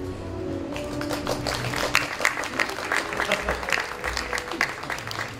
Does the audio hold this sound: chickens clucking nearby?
no